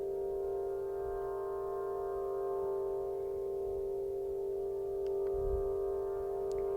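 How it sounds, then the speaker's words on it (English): Sustained, shimmering drone of an Aeolian harp sounding in the wind at the center of Stonehenge on a summer solstice, steady layered tones over soft low rumbles and a couple of faint chirps. "what you're hearing is an Aeolian harp, wind harp, placed in the center of Stonehenge on a summer solstice."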